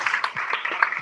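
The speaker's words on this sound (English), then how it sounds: "Can we have a round of applause for those celebrations?" Audience applause at a Changemakers talk with the co-founder of DASH Water, steady dense clapping from a room full of people, moderately loud, filling the whole short moment.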